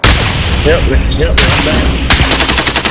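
Loud close automatic gunfire in Call of Duty: Modern Warfare Warzone, rapid bursts of shots with a sharp rattling volley near the end, while a player talks over it.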